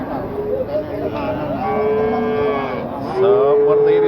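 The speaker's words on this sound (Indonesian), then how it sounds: "Seperti ini sapinya teman-teman ya." Cattle at a livestock market in Wirosari moo in long, drawn-out calls, close and loud, one low bellow followed by another rising call, over a murmur of people talking in the background.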